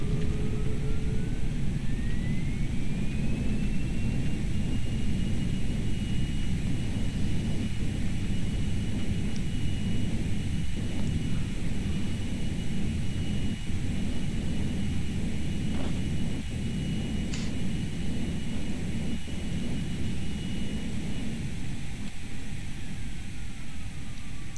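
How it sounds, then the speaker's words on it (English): Boeing 737 Classic thrust reversers roar on the runway after touchdown in a flight simulator, a steady loud broadband rush of jet engine noise with a rising whine, sustained throughout with small clicks and thumps. "Reversers."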